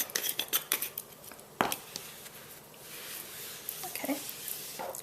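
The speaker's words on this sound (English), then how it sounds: "I'm going to put the lid on it" A lid is fitted onto a small container of embossing powder, with a quick series of light plastic clicks and taps close by, a louder snap partway through, then quieter handling.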